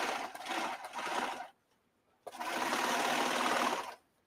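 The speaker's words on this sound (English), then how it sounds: "that's the one thing about a serger is that it evens out everything" A serger sewing machine runs in two fast, steady bursts, close and fairly loud, with a short silent pause between them and no talking.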